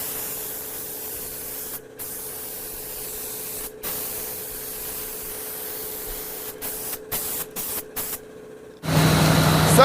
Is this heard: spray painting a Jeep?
yes